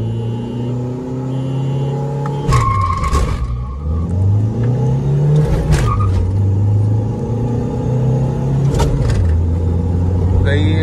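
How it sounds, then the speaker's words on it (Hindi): A Mahindra XUV500 SUV pulls away with a rising engine drone that climbs through gear changes, loud and close, while people talk over it throughout. "XUV निकल गई"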